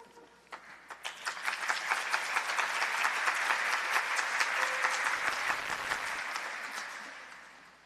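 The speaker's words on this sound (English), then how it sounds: "Let's give it up for another round of applause to the wonderful U of M Provost" An audience at a university event for Age-Friendly University Day breaks into applause for the U of M Provost, clapping that swells over a couple of seconds, holds steady and full, then tapers off near the end.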